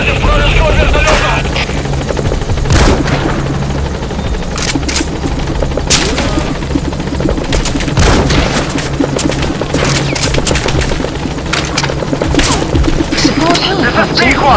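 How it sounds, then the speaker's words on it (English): A military helicopter in the video game Metal Gear Solid 5: The Phantom Pain thrums loudly and steadily throughout, mixed with bursts of gunfire, explosions and radio voices. "This is helicopter B-Quad."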